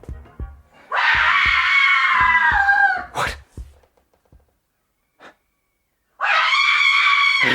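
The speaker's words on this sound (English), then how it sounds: "Did you hear a scream?" A woman's drawn-out scream rises sharply, breaks off amid gasps and rustling movement, then after a quiet pause a second loud scream erupts, close and shrill.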